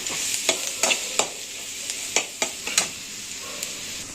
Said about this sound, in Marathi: आता हे मसाले पण आपल्याला तेलावरती असे परतवून घ्यायचे